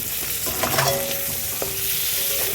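Tomatoes, green chillies and cumin-ginger paste fry in a pan for a kakrol and potato sabji, a loud, close sizzle with spatula scraping and a few clinks, no speech.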